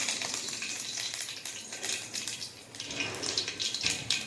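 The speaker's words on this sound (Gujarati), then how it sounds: "તેલ ગરમ થઈ ગયું છે, તેમાં આપણે રાઈ નાખીશું। થોડી હિંગ નાખીશું, મીઠા લીમડાના પાન નાખીશું" Mustard seeds, curry leaves and a pinch of asafoetida sizzle and pop in hot oil while a tempering is made for dudhi muthiya. The crackle is close and continuous, with no talking.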